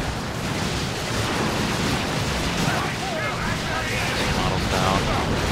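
Gunfire in a tabletop-style video game skirmish, a continuous roaring wash of shots and rumble heard at a steady loud level, with faint voices mixed underneath.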